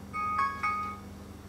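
A short electronic chime of a few bright, clean beeps from an Android Wear smartwatch speaker setting alarm volume, fairly close and clear, fading quickly.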